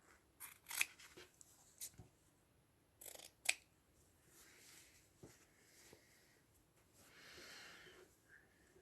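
Scissors cutting out a fabric square, a handful of close, crisp snips in short irregular bursts, separated by quiet pauses and soft handling rustle.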